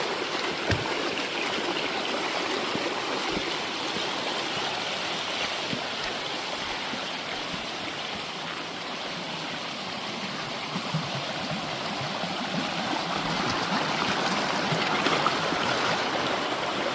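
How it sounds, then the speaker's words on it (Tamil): A forest stream flows steadily along a hiking trail at the foot of Sirumalai on the way to a waterfall, a continuous close rushing and trickling of water with no voices. "இந்த தண்ணி இந்த வழியில் தான் வந்துக்கிட்டு இருக்குது."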